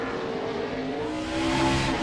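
A NASCAR stock car engine at the 2006 Dodge Save Mart 350 road-course race, a steady loud roar with rising pitch toward the end and no voices.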